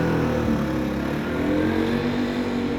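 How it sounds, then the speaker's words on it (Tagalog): Motorcycle engine revving at an outdoor market in Tel Aviv, Shuk HaCarmel, a loud, continuous close-range drone that swells slightly with the throttle over the bustle of the surroundings. "nakaingay ng motor na yun"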